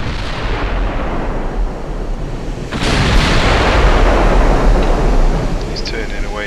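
Naval guns fire in the warship game Ultimate Admiral Dreadnoughts, giving a loud, dense rumbling barrage that swells and continues without pause, with a heavier burst roughly midway.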